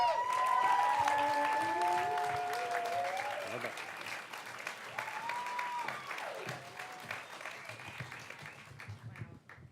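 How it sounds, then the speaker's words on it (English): Audience applause at a storytelling show fills the clip, steady clapping that slowly fades, with a voice speaking over it near the start. "Come on, give a round of applause."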